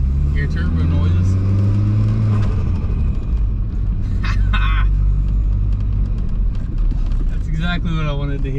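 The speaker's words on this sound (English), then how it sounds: "Oh my goodness, there's nothing but turbo noises." Turbocharged 1.8T engine swapped into a VW MK3 revs loudly from inside the car, with rising and falling engine tones, a steady road rumble and brief higher whooshes near the middle and end.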